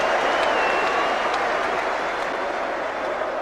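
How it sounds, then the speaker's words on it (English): Sustained applause from a Wembley crowd after a Nottingham Forest victory, a dense steady wash of clapping that holds at an even level throughout with no voices standing out. "Applause from the manager for the team that have achieved another victory."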